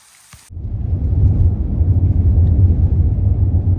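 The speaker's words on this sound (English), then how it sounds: "the rain's really coming down now" Heavy rain pours down outdoors in Arizona, starting after a brief quiet moment and then holding as a loud, steady, dense roar to the end.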